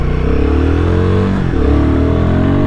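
Royal Enfield Guerrilla 450 motorcycle at full throttle, its engine loud and close, revving up steadily with rising pitch, a brief dip midway before climbing again, with no voices.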